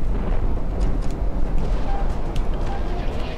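Rail gun fire from a fighter jet in Project Wingman, a dense, roaring, sustained rumble with crackling blasts layered throughout, loud and continuous.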